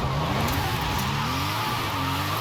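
Stock Toyota Chaser with a 1JZ engine in the Forza Horizon 5 driving game, a steady loud engine drone with rising and falling harmonic tones as revs shift, continuous and close with no talk.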